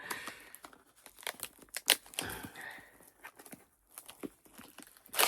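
Shrink wrap being peeled and torn off a Beatles Anthology CD box set: crinkly plastic crackles and rips in irregular bursts, close and fairly quiet, with no talking.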